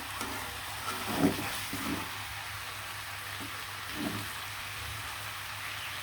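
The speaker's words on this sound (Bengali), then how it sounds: "মাংসটা সুন্দরভাবে ভাজা ভাজা করে কষিয়ে নিব" Soft, quiet sizzling of spiced chicken frying in a pan, with a few gentle stirring scrapes and no talking.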